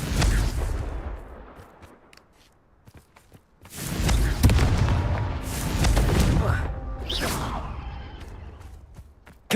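Confringo blasting spells burst in Hogwarts Legacy: loud, sharp booms with crackling debris and whooshes in a couple of clustered volleys, separated by a quieter stretch, with someone speaking now and then.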